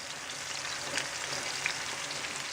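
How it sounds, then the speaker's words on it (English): A beef roast sears in a hot pan, giving a continuous even hiss and sizzle, fairly quiet and steady with no voices. "that is the roast searing off on the first side"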